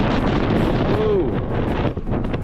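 Strong wind in the Rocky Mountains buffets the microphone with a constant low roar and rumble.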